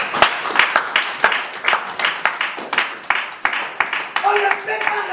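A church congregation claps rhythmically to acclaim the Lord, a steady beat of loud, close claps with voices underneath throughout.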